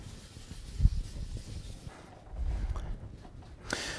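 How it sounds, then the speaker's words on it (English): A brass brush scrubs the scraped metal surface of a South Bend Heavy 10 lathe bed turret part, giving a steady, close, raspy rubbing with a few sharper strokes and no talk. "Using a brass brush on this scraped surface here."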